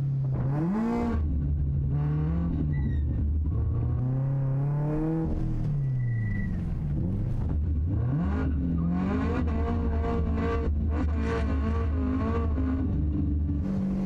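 A drift truck runs a lap of a tight cone course with the throttle held wide open, its engine holding a loud, steady drone. The pitch climbs and falls as the driver brakes, works the clutch and powers through the turns.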